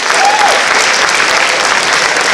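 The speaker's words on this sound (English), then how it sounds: "Let's give them a round of applause." Dense, even applause from a crowd at a senior project presentation fills the whole moment, loud and close with no gaps.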